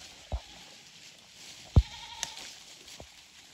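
Goats browsing dormant oak brush in February give a few short, scattered bleats, one louder nearby, over faint rustling of shaking twigs and leaves outdoors.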